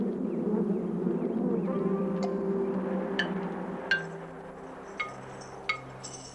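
Honeybees buzz in a low, continuous drone near the start that thins out over time, with a few sharp glassy clinks breaking in toward the end and no speech.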